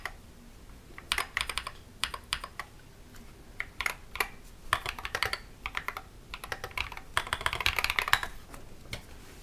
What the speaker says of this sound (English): Let's do a typing test here.